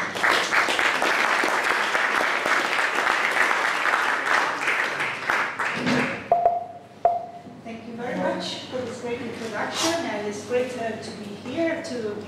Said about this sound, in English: So let's receive Serena with an applause.